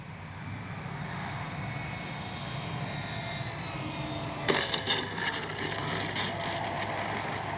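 A Dynam F6F Hellcat radio-controlled model plane flies with a steady, continuous engine drone that holds at an even level, with a few sharp clicks partway through.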